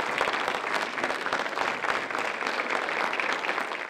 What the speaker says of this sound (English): the crowd gave him a standing ovation